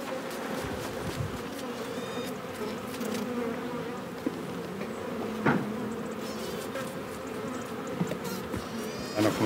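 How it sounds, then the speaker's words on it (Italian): Honey bees swarm and buzz steadily around an opened hive of Gallura corbezzolo (strawberry-tree) honey, a dense, continuous hum close by with a few brief knocks and rustles from handling the frames. "The smoke calms the bees"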